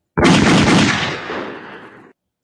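One gunshot sound effect, a sudden loud close blast that fades away in a long rumbling tail and then cuts off.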